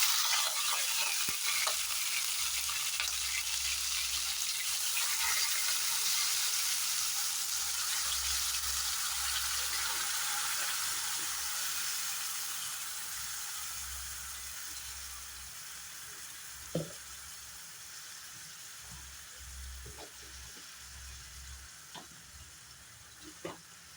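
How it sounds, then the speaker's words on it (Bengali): Spice paste for paneer curry sizzling in hot oil, a broad steady hiss that slowly fades quieter over time, with a few faint clicks and knocks and no voices. "তেলটা গরম হয়ে গেছে, এখানে আমি পেস্ট করা মশলাটা দিয়ে দেব।"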